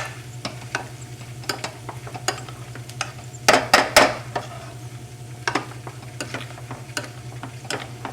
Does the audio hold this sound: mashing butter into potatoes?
yes